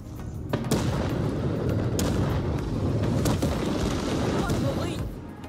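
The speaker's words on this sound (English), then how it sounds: "The artillery strikes." Artillery strikes from an artillery outpost pounding a plague heart in State of Decay 2, a steady, dense roar of booming blasts with sharp impacts near 0.5, 2, 3.3 and 5 seconds, loud and continuous throughout.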